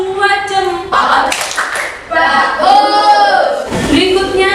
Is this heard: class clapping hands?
yes